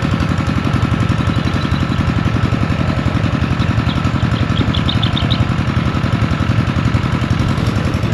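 A diesel engine runs steadily in a vegetable garden of eggplants being fertilized, a loud, even chugging idle with rapid knocking pulses that continue unbroken throughout, with no voices over it.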